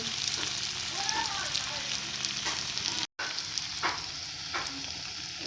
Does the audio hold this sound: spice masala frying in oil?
yes